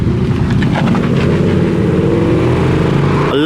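An American muscle car, a Challenger, idles and revs nearby on the street, a loud, steady low engine rumble with a rising pass of engine noise at the very end.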